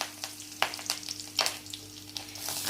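Mustard seeds, cumin and curry leaves frying in hot oil in a pan: steady soft sizzling with scattered crackles and sharper pops throughout, fairly quiet and close, no speech.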